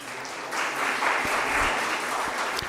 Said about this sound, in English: So let's hear a huge round of applause,